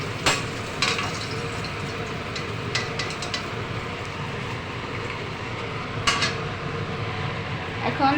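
Katla fish frying in a pan with oil, a steady broadband sizzle running throughout at close range, with a few brief clinks and stirring sounds over the top.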